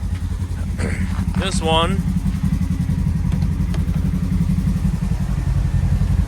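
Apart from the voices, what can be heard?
Polaris vehicle engine idling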